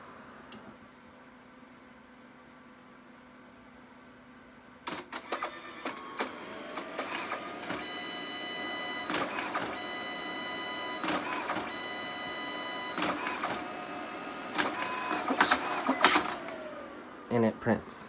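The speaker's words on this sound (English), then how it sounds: "Here's the DNP printer, and I'm gonna try a test print." A DNP photo printer runs a test print: after a few quiet seconds it starts a steady mechanical whir and hum with clicks and feed noises, continuing nearby for about twelve seconds.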